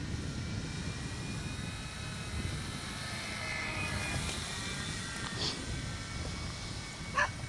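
A radio-controlled model airplane makes a fairly faint, distant engine drone that swells gently as it passes overhead outdoors, with a few brief sharp sounds near the end.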